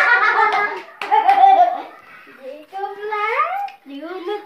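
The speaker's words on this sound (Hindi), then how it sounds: "चलो ताली बजाओ" Children clap their hands at home during a small Diwali celebration; short bursts of clapping are mixed in with loud children's voices and laughter close by.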